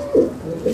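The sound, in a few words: pigeon cooing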